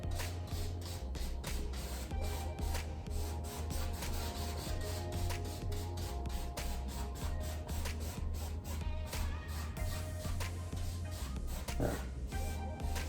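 A 1 inch brush pulls wet oil paint across canvas in a wet-on-wet mountain painting, giving a steady, soft scraping and rubbing texture of repeated strokes over a low background hum.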